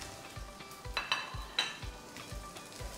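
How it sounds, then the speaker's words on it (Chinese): Spices stir-fried in hot oil in a wok give a soft crackling sizzle, broken by repeated scraping strokes and a few light metallic clinks, close and without talk. "给它煸炒一下"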